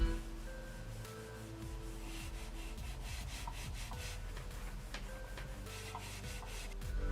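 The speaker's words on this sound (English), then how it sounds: "It actually sounds like the plastic is rubbing on the pad" Plastic mouse feet scraping loudly across a mouse pad, a steady continuous rubbing with short back-and-forth strokes, close and alone.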